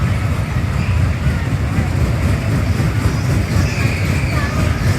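A small exhibition ride train runs in a continuous low rumble and rattle, with busy crowd noise and voices mixed into the background.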